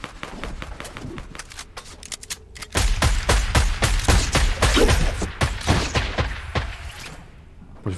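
A gun fires in Fortnite, at first a few scattered shots and then rapid, loud bursts of sharp cracks in quick succession that thin out near the end.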